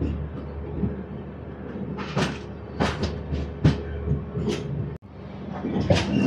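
Passenger train 08551 from Visakhapatnam to Araku pulling out of Visakhapatnam station, with a steady rolling rumble, several sharp clanks and couplings knocking, and a brief break before the noise resumes.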